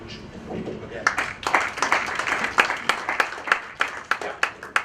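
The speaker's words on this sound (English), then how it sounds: "a special applause, which we should do again" Clapping starts scattered and builds into steady applause from a crowd, with voices murmuring underneath and a few louder claps standing out.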